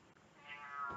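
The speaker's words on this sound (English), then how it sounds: "that's one of my cats meowing like crazy" A drawn-out, wavering house cat meow rises faintly out of a quiet room, a single plaintive call with no voices.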